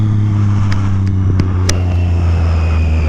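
A new race motorcycle runs loud and close, its engine holding a steady strong drone with a few sharp clicks and ticks over it.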